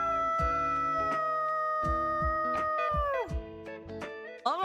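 A person imitating a dog with a long, drawn-out howl, several sustained wavering vocal notes that bend downward at the end, followed by a few short bursts and clicks.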